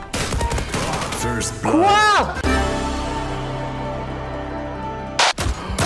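Bursts of M4 rifle fire crackle in a video game, with rapid shots early on and a sharp burst near the end, mixed with tonal game effects while a player speaks briefly.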